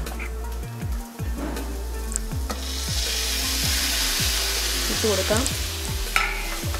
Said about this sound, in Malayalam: ഇതെല്ലാം കൂടെ ഒന്ന് വഴറ്റി തക്കാളി ഒന്ന് വേവണം